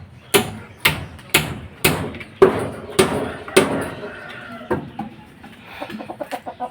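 Hens cluck in sharp, repeated bursts close by, a run of spaced calls giving way to quicker, softer clucks at the end.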